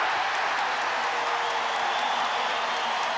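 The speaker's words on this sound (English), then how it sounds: "Listen to the crowd as the Celtics have come back, still trailing by 5." A basketball arena crowd at a 1986 NBA playoff game between the Boston Celtics and Chicago Bulls roars in a continuous, loud wash of cheering and clapping with no break.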